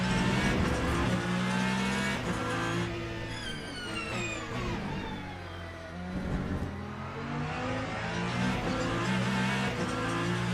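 An LMH prototype race car in Le Mans Ultimate, driven online at Le Mans, roars close with shifting engine pitch as it brakes and downshifts, then accelerates again, with faint tire scrub throughout.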